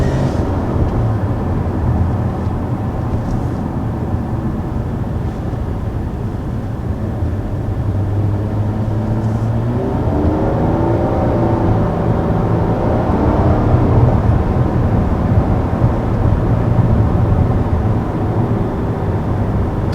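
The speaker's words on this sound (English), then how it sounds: "The VQ, like I've said many times, it just sounds really good. It has a unique tone to it." A 2019 Nissan Maxima with its VQ V6 engine drones steadily from inside the car while driving, a loud continuous hum with a rising, shifting tone partway through, alone without talk.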